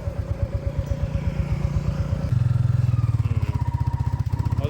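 A motorcycle engine turns over with rapid rhythmic chugging, then catches and settles into a louder, steady idle putter nearby.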